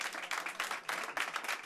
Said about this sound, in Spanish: Entre aplausos, Francisco Igea ha sido recibido de esta forma por los suyos.